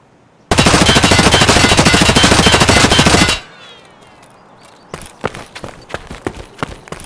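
A submachine gun in Escape from Tarkov fires one loud, sustained full-auto burst of about three seconds, then stops, followed by scattered sharp clicks and taps.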